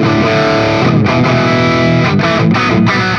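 Electric guitar played through an AnalogMan King of Tone overdrive pedal into a Marshall 1959HW amp, a loud, dense distorted chord riff with brief choked gaps between strums, played with no talking.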